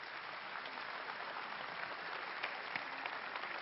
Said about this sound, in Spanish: Con este fuerte aplauso.